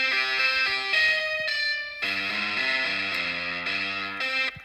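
A piano patch run through heavy guitar-style distortion in iPad GarageBand, imitating a metal guitar: sustained, buzzing chords change in blocky steps, loud and close, with no talking.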